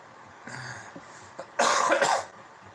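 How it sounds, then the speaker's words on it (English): A harsh, loud cough close to the mic, a couple of rough bursts lasting under a second after softer breathy sounds. "That's that hemp cough."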